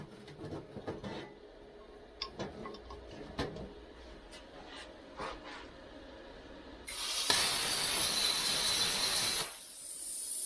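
A Vevor Cut 50 plasma cutter set to 50 amps cuts through rusty steel. Scattered clicks and taps come first, then a loud steady hissing roar of the cut lasts about three seconds before it stops abruptly.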